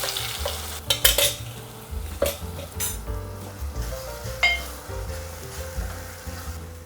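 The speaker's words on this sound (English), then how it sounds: "So just let it fry for around 1 to 2 minutes" Ground masala for Goan beef curry frying in oil in a pot, with a gentle sizzle under repeated clinks and scrapes of a spoon against the metal, close and moderately quiet.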